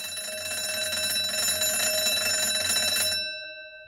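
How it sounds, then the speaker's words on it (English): An alarm bell rings steadily for about three seconds, a bright continuous metallic ringing at moderate volume, then stops abruptly and leaves a brief fading tone. "an alarm again."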